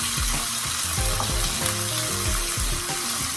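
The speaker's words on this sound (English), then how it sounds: "Saute these for about 2 to 3 minutes, guys." Carrots and vegetables sautéing in a pan for Jamaican brown stew fish, a loud steady sizzle with repeated low thumps and faint clinks, no speech.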